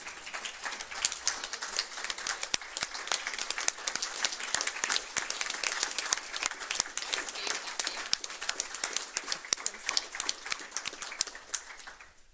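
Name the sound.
applause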